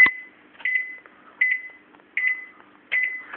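An oven timer signalling that a pizza is done: four evenly spaced electronic beeps, clear and fairly close against near silence, with no talk.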